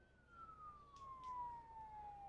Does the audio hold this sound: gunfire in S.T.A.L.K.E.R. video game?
no